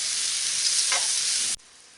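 Onions, mushrooms and garlic sautéing in a pan with meat drippings for venison stroganoff, a steady loud sizzle that cuts off abruptly near the end.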